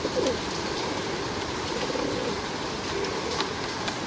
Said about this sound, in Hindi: ये भी अच्छे ब्लड लाइन के कबूतर है।